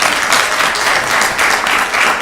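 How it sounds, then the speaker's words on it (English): A temple audience at an ISKCON gathering in Phoenix claps steadily, a dense, loud, continuous wash of many hands with no pauses and no talking. "Please give him a big round of applause for that."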